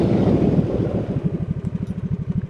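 A Harley-Davidson Nightster motorcycle slows under braking, its engine dropping from a steady rumble into a loping, uneven idle heard up close, with no talking.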